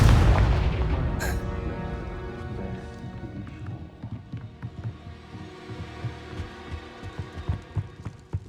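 The Confringo fire spell in Hogwarts Legacy bursts as a loud booming explosion that rumbles and fades over several seconds, followed by softer scattered thumps and impacts.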